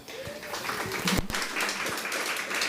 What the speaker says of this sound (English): a round of applause for Becca